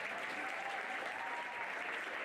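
Audience applause fills an outdoor horse show awards ceremony for a French Equifeel Club Elite championship, a steady dense clapping that runs unbroken from start to finish at even loudness.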